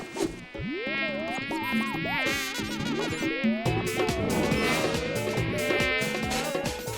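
In a kids' cartoon, a mosquito's insistent whining buzz holds steady for several seconds, swooping up and down in pitch and staying loud and near throughout, with no talking.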